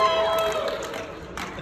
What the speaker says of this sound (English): This will bring some applause.